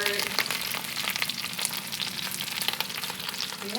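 Food crackles and pops loudly in a hot pan while it is stirred, a dense continuous sizzle with constant small bursts throughout.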